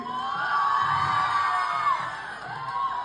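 A big festive crowd in Kottarakkara cheers and shouts for actor Asif Ali's arrival, with a steady roar of voices, whoops and children's yells throughout. Sustained and loud, no clear individual speech.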